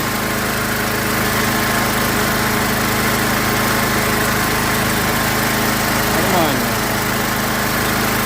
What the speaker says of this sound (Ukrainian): Ось такий генератор у мене. Хто там чує, бо дуже дуже гучно біля нього.